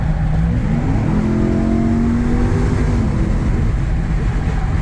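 A Ram TRX pickup truck engine revs up and settles back, a close, loud rising and falling motor tone over a steady driving rumble, with no talking.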